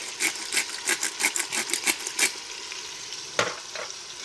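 Onions in a pan are stirred as they fry, a quick series of about a dozen rhythmic scraping strokes with a soft sizzle, close and fairly loud, then a pause and a single louder knock.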